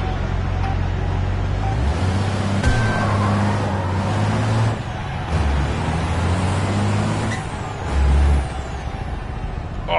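A 5-ton racing truck in FIA European Truck Racing brakes hard, with a loud, steady low engine drone, hissing air-brake bursts and a deep thump near the end.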